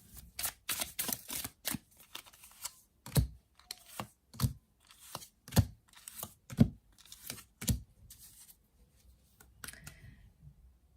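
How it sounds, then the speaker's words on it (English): Tarot cards being laid out one after another during a reading, heard as a quiet series of sharp slaps and flicks, clustered quickly at first and then spaced about a second apart, close and alone. "Let's lay out some more cards, see what's up."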